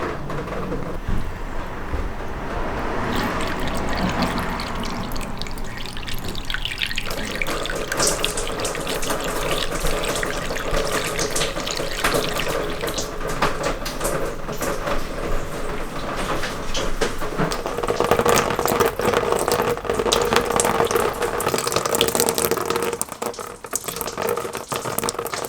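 Water is poured slowly into the front sunroof drain of a Porsche Cayenne 958 with a panoramic roof, a continuous close trickle and gurgle that keeps running steadily and grows somewhat fuller toward the end.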